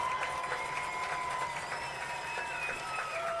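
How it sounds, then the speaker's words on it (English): Applause from a stadium crowd at a Springfield High School football game, honoring the 1992 state championship team; steady, distant-sounding clapping fills the stands with a faint tone and crowd murmur underneath. "give the biggest round of applause for your 1992 state championship Springfield High School football team"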